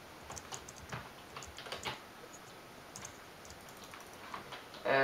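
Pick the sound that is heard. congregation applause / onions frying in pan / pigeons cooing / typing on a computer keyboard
typing on a computer keyboard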